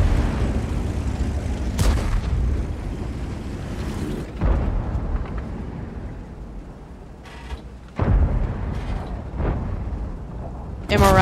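Heavy booming tank cannon shots from a Tiger II in World of Tanks, several loud blasts with rumbling decay over continuous engine and battle noise, with someone talking over the action.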